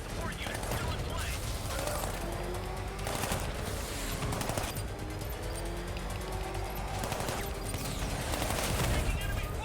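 Rapid enemy gunfire rattles through a Batman Arkham Knight battle, with dense machine-gun bursts and repeated shots cracking continuously under a distant mechanical rumble.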